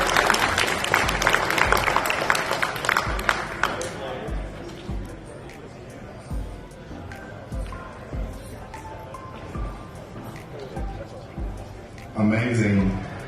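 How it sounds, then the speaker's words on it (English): An audience applauds a cosplayer who combined lights and thermoplastics in a costume at a cosplay showcase. A burst of clapping and crowd noise fades out, followed by scattered claps and thumps, and then a voice speaks near the end. "Can I give a round of applause?"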